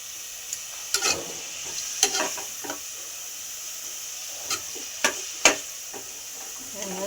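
Onions fry for biryani in a pan with a soft, steady sizzle. Sharp scrapes and clinks from stirring come every second or so, close by, with no voice over them.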